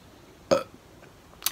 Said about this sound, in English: Burped.